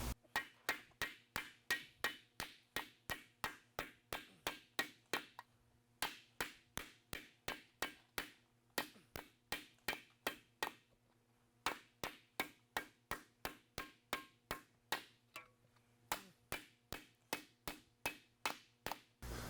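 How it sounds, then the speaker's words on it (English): Repeated sharp hammer blows on sheet metal over a leather beater bag during a Talbot-Lago body shaping job, struck in steady rapid runs with brief pauses between bursts, close and loud with no talking. "So I'm going to hammer this out a little bit. We'll do this right on the beater bag right here."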